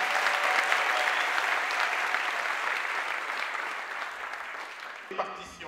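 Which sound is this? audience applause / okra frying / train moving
audience applause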